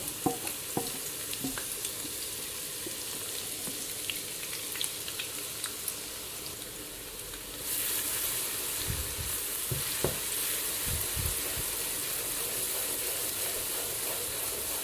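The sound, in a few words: spice paste frying in hot oil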